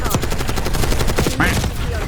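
Rapid automatic gunfire from a shooter video game, a dense burst of close, loud shots rattling continuously through the whole moment.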